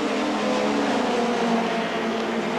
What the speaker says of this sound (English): that engine sounds rough